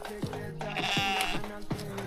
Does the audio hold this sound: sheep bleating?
yes